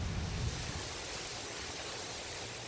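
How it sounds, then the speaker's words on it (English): Steady broadband rushing of wind outdoors, with a stronger low gust at the start before it evens out into a constant blowing hiss. "it's really windy out."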